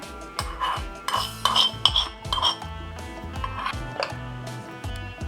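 A metal spoon stirs a mustard and cumin tempering into a curd sauce in a steel pot, making repeated clinks and scrapes in an uneven rhythm, close by, with no talking.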